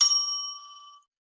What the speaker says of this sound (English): Where's my bell? Oh, here it is.